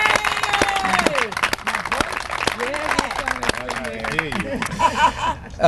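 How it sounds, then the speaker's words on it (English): An audience at a City of Savannah canned food drive claps and cheers in a dense burst of applause, with voices calling out over the clapping. "Let's give us a round of applause."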